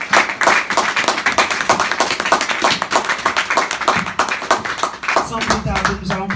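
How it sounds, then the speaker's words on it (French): A church congregation applauding the Lord during a Pentecost service, rapid rhythmic clapping that goes on throughout, mixed with cheering and voices. "Je veux qu'on acclame le Seigneur."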